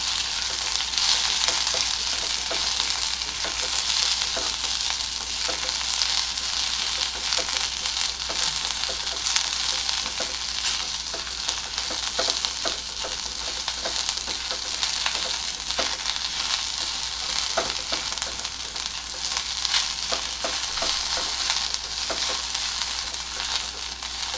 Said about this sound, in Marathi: कांदे उभे चिरून घेतलेले तेही घालते कांदा लालसर होईपर्यंत आपल्याला हे परतून घ्यायचं आहे